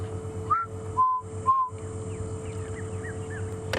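Someone whistles an imitation of a red-chested cuckoo call, a few clear rising and falling notes, followed by faint distant bird calls over a steady hum, on an evening safari drive.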